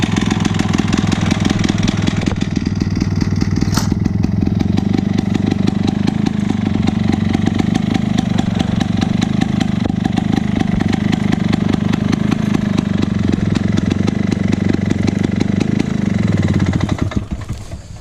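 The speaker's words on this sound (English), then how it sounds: "I love how good this mower idles. A nice, smooth, low idle." A lawn mower engine idles smoothly and low for a long steady stretch, loud and close with an even chugging rhythm, then begins to wind down at the very end, with no voices.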